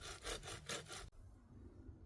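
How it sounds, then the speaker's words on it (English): Rhythmic back-and-forth rasp of a hand saw cutting wood, close and quiet, a few strokes that then stop abruptly, leaving near silence. "So I'll start the sawing now"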